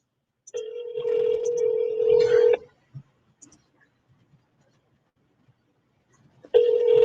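A phone ring tone sounds for about two seconds, stops, and after a few seconds of near silence starts again, clear and close.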